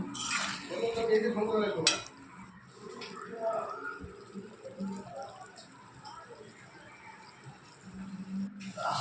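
Mashed boiled banana flower and prawns being turned over in a pan, with repeated scraping and clatter of a spoon against the metal, a soft sizzle and a voice talking intermittently over the stirring.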